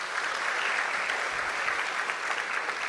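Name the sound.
audience applause at an honors convocation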